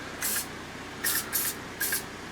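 Spray paint bursts onto a Warhammer 40k Blood Angels display board: four short hissing sprays, each under half a second, separated by brief pauses over a steady background hum.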